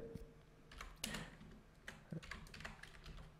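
Someone types on a computer keyboard in quiet, close, irregular clicks, with a few sharper key taps standing out among the lighter keystrokes.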